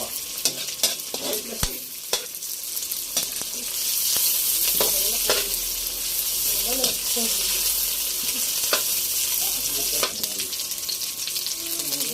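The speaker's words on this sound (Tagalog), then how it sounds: "igigisa yung ating pong mga rekado" Spices and aromatics sauté in a pan for chicken adobo in coconut milk with papaya, a steady close sizzle with stirring scrapes and clinks, loudest through the middle and continuing to the end.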